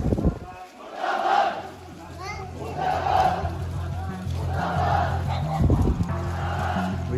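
An angry crowd at a street protest in Kadma, Charkhi Dadri, roars out repeated slogans in surging waves, loud and close, with a steady low hum beneath the shouting.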